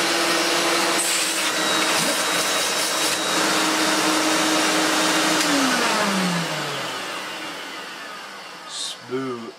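A refurbished Electrolux Glider Z1820 vacuum cleaner with an oiled top bearing runs with a loud, steady motor whine close by, then winds down smoothly as the motor pitch falls toward the end.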